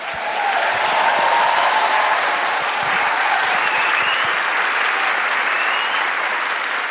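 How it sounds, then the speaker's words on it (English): Rapturous audience applause welcoming the Les Misérables film cast and director to the stage; a loud, dense, unbroken wall of clapping that swells in and stays full throughout. "Please give a huge, rapturous applause as we welcome to the stage Samantha Barks, Redmayne, Amanda Seyfried, Anne Hathaway, Hugh Jackman,"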